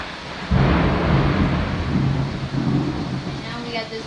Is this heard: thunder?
yes